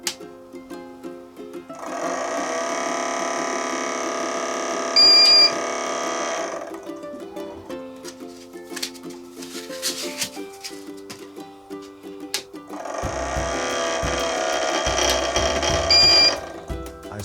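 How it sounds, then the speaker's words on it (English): A cooling fan on a newly assembled Fokoos Odin Smart 3D printer makes a terrible scraping, rattling noise, with two loud sustained bursts of grinding whir separated by quieter mechanical clicking and whirring. "I heard this terrible noise coming from one of the fans"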